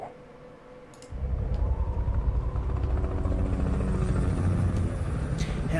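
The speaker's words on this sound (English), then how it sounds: "Helicopter." A helicopter in a game trailer: its deep rotor drone rises out of quiet, then holds steady and loud, with a low rhythmic thrum and a faint high whine above it.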